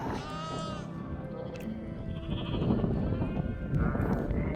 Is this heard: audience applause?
no